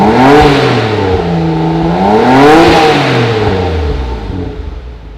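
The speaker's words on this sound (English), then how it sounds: "Hit them with the revs." A Nissan R33 Skyline fitted with HKS Super Turbo mufflers and HKS downpipes revs while parked, the engine note climbing and falling in a few swooping blips, close and loud, settling back toward idle.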